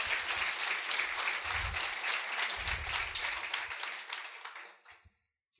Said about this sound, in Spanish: Dele un aplauso al Señor fuerte.